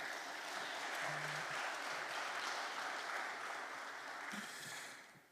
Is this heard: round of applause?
yes